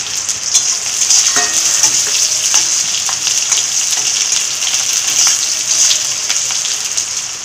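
Onion hitting hot oil with dried red chillies, whole garlic and chopped coconut, a steady loud bright sizzle and crackle with occasional sharper pops and spatters, no voices.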